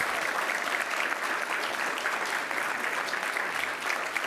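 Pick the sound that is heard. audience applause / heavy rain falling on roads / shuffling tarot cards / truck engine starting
audience applause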